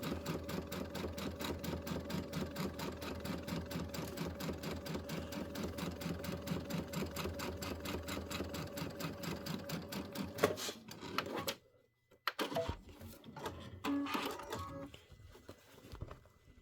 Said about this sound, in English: it's not going to go any faster than how you see it sewing right now